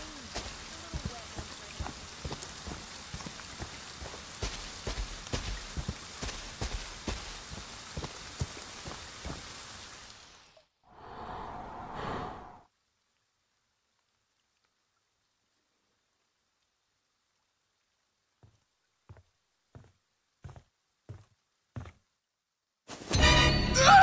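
Rain falls steadily in the Friday the 13th game, a dense patter of drops on surfaces. It cuts off abruptly, followed by a brief muffled sound and then scattered faint knocks.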